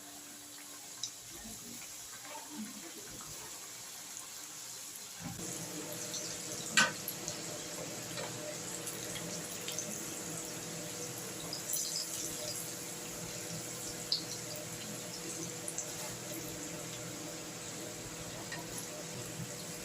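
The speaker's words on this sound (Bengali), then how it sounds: "তেলটাও গরম হয়ে এসছে আর আমি একটা একটা করে তেলেতে ছেড়ে দিচ্ছি" KFC-style chicken popcorn pieces are dropped one by one into hot oil and sizzle steadily, a continuous close frying hiss that begins partway through after a quieter start.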